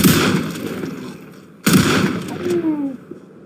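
Two sharp, loud gunshots from a video game, the second a zoomed-in headshot, each a sudden crack with a decaying echo tail and a brief gap between them.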